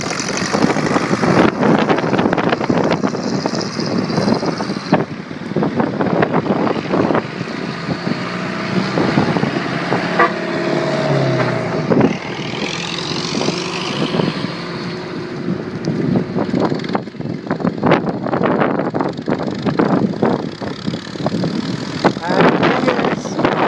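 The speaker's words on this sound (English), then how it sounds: "it's the first windy day of this whole trip" Strong wind buffets the microphone in a steady roaring rumble while riding outdoors on a windy day, with a voice talking over the noise throughout.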